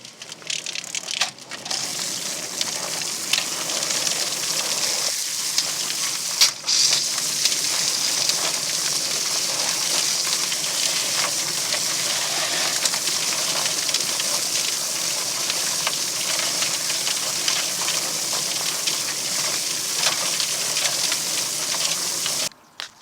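A chicken plucker spinner works over freshly scalded birds, a loud, continuous churning, clattering rush with wet slapping texture that runs steadily and close throughout.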